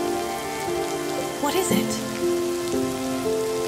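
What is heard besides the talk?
rain falling, audio drama effect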